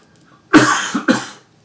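Two quick, harsh coughs from a dry throat, close and loud, following a moment of near silence.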